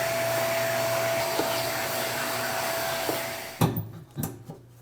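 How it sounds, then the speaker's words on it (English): A vacuum cleaner drones steadily while cleaning the back side of a Harman P Series pellet stove door, then shuts off, followed by a few clunks and knocks nearby. "Just want to vacuum up the back side of this door here."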